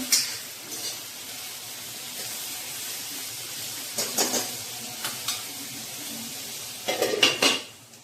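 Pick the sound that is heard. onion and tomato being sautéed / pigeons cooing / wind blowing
onion and tomato being sautéed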